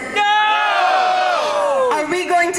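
A rally crowd on Burnaby Mountain protesting the Kinder Morgan pipeline lets out a loud, sustained collective cheer and yell, many voices shouting together, close and full for a couple of seconds before tapering slightly.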